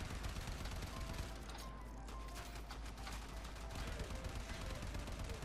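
In Warframe, the Argonak rifle's secondary fire sounds as a run of sharp, rapid shots in quick succession, loud and close, with a mechanical rattle between bursts.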